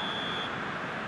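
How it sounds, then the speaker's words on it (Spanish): A referee's final whistle in the PES football video game gives one steady, shrill tone that stops about halfway through, set over a constant wash of stadium crowd noise. "Aquí está el pitido final."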